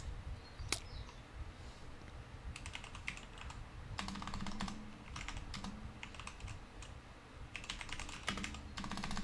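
A computer keyboard is typed on in quick, soft bursts of clicking keys, with pauses between runs and faint background noise throughout.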